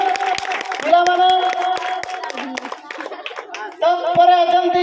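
Hand clapping breaks out for the winners of a Diwali game competition final, brief and uneven, with children's voices and an announcer talking over it and a bright tonal hum running beneath.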